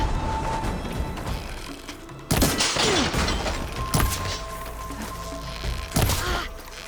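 Enemy gunfire in Horizon Forbidden West: loud bursts of shots crack out around 2.3, 4 and 6 seconds over a busy battle backdrop, with impacts and thuds mixed into the fusillade.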